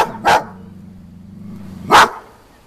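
African wild dogs at Sigean zoo in France give two sharp, loud barks about a second and a half apart, with a steady low hum between them.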